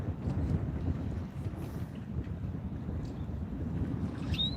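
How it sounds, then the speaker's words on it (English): Wind gusts across an outdoor trout-fishing spot on the water, a steady broadband rumble buffeting the microphone for the whole stretch without letup. "The wind's been picking up all for the day."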